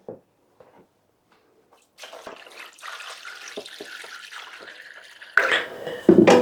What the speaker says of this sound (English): I'm filling it up with water just till it touches those racks.